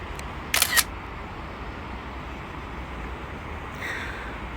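A DJI Mini 2 drone's camera fires a single brief shutter click for a photo, heard against a steady background hiss with a faint second blip a few seconds later.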